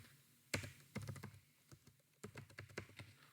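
Faint, close computer keyboard keystrokes as someone types JavaScript code, arriving in short irregular clusters of quick clicks with brief pauses, no voice.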